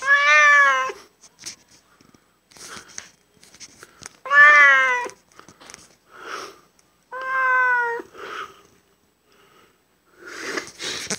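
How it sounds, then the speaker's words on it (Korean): A pet cat just over a year old meows three times, loud and close, with clear drawn-out calls spaced a few seconds apart and soft sniffing and rustling between them. "우리 고양이"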